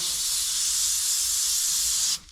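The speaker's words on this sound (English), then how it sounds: "I'm just going to do a little bit of spray in here to get it" An airbrush-style paint sprayer hisses continuously up close, a bright steady spray sound that cuts off abruptly near the end, followed by near silence and a small click.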